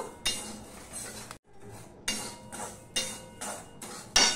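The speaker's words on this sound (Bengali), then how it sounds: "এই সুজিটাই আমি এবার একটুখানি ভেজে নেব" A spatula scrapes and taps a dry pan in about seven rhythmic strokes as semolina is roasted, close and with no voices.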